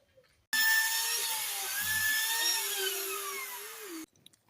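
Power drill bores into an agarwood tree trunk for inoculation, a loud, steady high whine that runs about three and a half seconds before cutting off abruptly, with no talking.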